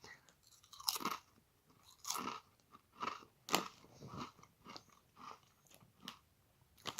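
Real McCoys crisps crunched between the teeth at close range, a series of sharp crackling bites and chews in irregular bursts, with no talking.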